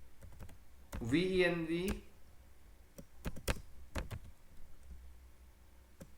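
Typing on a computer keyboard under Ubuntu, scattered crisp key clicks close by, with a brief spoken word in the middle.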